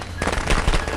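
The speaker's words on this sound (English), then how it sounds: "I'm throwing firecrackers!" A rapid burst of sharp crackling pops, several firecrackers thrown in the video game Friday the 13th going off close together in about a second.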